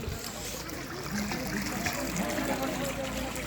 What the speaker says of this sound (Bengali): এই জায়গা থেকে কিন্তু গরম জল বার হচ্ছে আর এখানে সবাই স্নান করছে